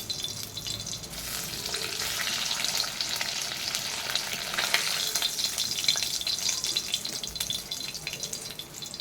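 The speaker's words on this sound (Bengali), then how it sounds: "হালকা করে ভাজে নিতেছি" Fish, small ching fish, fry in hot oil with a continuous, dense crackling sizzle that stays close and fairly steady throughout, with no talking.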